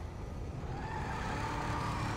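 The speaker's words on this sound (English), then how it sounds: "Don't really just need to hear the engine running." Steady low engine drone of a car idling in the video game GTA 5, a continuous mid-level hum with no voices over it.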